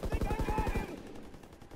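A rapid machine-gun burst from a World War II video game, about a dozen evenly spaced shots over under a second, fairly near, then fading into a quieter tail.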